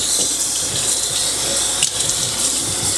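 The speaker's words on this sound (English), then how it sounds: "now I'm gonna go ahead and rinse it off" Running water pours steadily over a car headlight during a rinse, a close, continuous splashing hiss with no talking.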